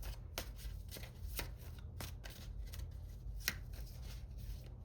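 Tarot cards being shuffled by hand close up, with a run of crisp riffling snaps and soft slides repeating at an irregular pace over a low room hum.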